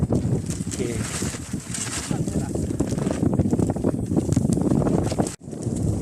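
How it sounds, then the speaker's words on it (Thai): Strong wind gusting outdoors by the water during a fish-hunting outing, a loud, dense roar buffeting the microphone continuously, cutting out briefly near the end. "ลมพัดแรงมากครับ"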